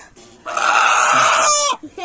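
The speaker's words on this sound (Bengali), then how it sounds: "দেশি মুরগি তো চলে এসেছে" A desi native hen lets out one loud, strained squawking call lasting just over a second, close by, with quieter stray sounds before and after.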